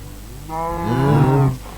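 A cow spawned in Minecraft lets out one close, loud moo lasting about a second, rising and then ending abruptly, with no other sound around it.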